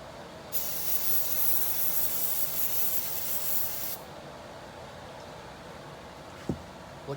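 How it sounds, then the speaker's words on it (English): An aerosol can sprays in one long, loud hissing burst for a few seconds, then stops, followed by quiet and a couple of small knocks, during a 1994 GMC C3500 TBI engine rebuild. "Spray."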